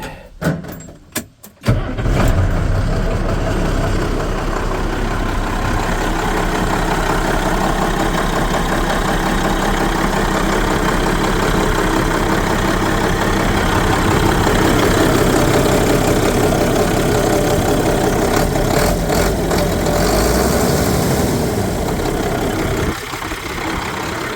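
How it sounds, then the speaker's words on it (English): An old truck's Cummins diesel engine runs loud and steady at idle after a few knocks at the start, a continuous close rumble with a slight change near the end. "That old Cummins runs nice too. She runs real nice."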